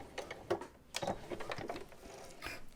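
A sewing machine stitching a backtack on leggings fabric, quick short bursts of needle clatter separated by brief pauses, close and moderately quiet.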